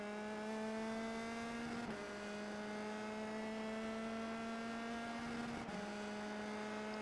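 A USF2000 race car engine on the Suzuka circuit holds a high, steady whine at the rev limiter, loud and close, broken by two quick gear shifts.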